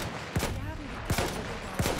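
Gunfire in the video game Battlefield 1: three sharp, punchy shots spaced roughly evenly apart, heard up close over a dense, continuous bed of in-game battle noise.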